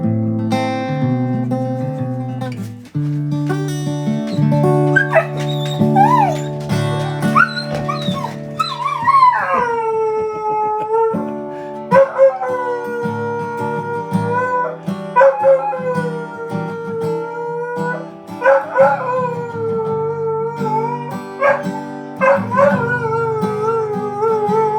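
A pet dog howls and yips in a drawn-out, wavering song, rising and falling over a steady musical backing, close and fairly loud throughout.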